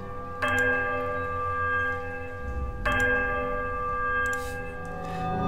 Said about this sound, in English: The bell sounds a strange warbling peal that grows to painful shrillness before it diminishes to a mournful chime.